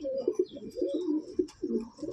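Golden-eye and deep-eye Madrasi pigeons coo in a loft at Barasat, a run of soft, rolling low coos repeating close by, with faint bird chirps above.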